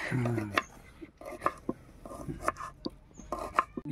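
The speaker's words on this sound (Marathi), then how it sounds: "ती कापते भेळीसाठी कांदा" A knife chops onion on a board for bhel, a quick series of sharp, close cutting knocks in an irregular rhythm, mixed with low background voices and rustling.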